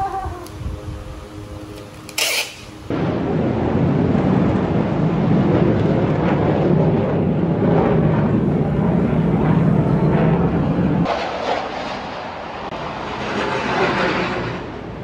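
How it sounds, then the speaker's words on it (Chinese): Fighter jets fly over Hualien, Taiwan, with a loud, roaring engine rumble that builds and holds for several seconds before easing, following a brief sharp clatter at the start. "估计听战斗机划破天空是花莲居民的日常内容。"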